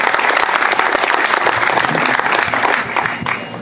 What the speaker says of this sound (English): Give everybody a round of applause, yourselves included, for coming out today.